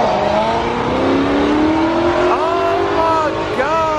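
Loud car engines, including a 5.0-liter, rev and roar continuously at a Cars and Coffee car meet in Atlanta, rising in pitch, with a brief spoken exclamation over the noise.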